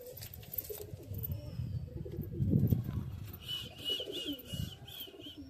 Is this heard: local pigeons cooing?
yes